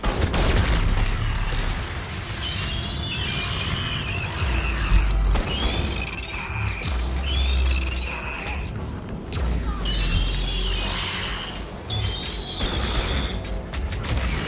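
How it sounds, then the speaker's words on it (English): Incendiary ammo fire explosions and gunfire in the Mass Effect 3 multiplayer video game, with mechanical clanks and bursts over a dense, steady battle din throughout. "Incendiary ammo working on him. That fire explosion."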